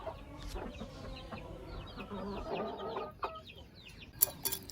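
Soft clucking and peeping of three-week-old Aseel chicks close by, with scattered chirps and a few sharp louder calls near the end as they start fighting.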